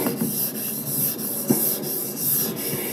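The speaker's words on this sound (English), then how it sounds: "to do as I'm doing with a block sander as opposed to by hand on the final cut for the primer prior to paint" A block sander is worked over primer on a car body with fine 2000-grit sandpaper. It makes a close, steady rasping rub in back-and-forth strokes, each pass ending in a faint scrape.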